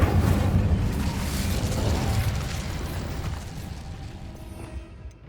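An Incendio fire spell is cast in the Hogwarts Legacy video game. A loud whooshing burst of flame starts at once, then slowly dies away into a crackling fade over a few seconds.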